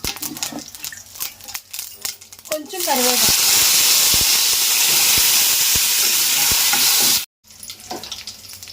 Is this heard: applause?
no